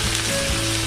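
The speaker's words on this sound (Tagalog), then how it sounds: "pag mainit na yung ating mantika, tusta muna natin yung ating baboy." Pork toasts in hot oil for a laing dish, giving a dense, steady close sizzle with a faint hum underneath, brief and unbroken.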